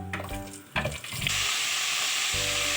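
Cumin sizzles in hot oil, then cauliflower florets drop into the pan with clattering thumps and the frying swells into a loud, steady hiss, close up.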